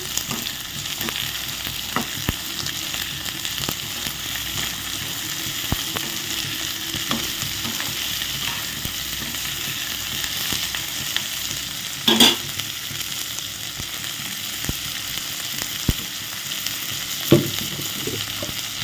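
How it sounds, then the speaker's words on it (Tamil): Chopped onions sauté with salt in a hot pan, giving a steady, close sizzle broken by frequent scraping stir strokes and one sharper clatter near the middle, with no talking. "வெங்காயம் மட்டும் கொஞ்சம் சீக்கிரமாக வதங்கிடும்"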